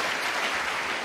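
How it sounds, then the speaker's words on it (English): A crowd claps warmly for Sadhguru at a talk in Azerbaijan, dense steady applause filling the whole moment with no voices over it. "Let's make a warm applause for our Turala Sadhguru and of course our dear Sadhguru."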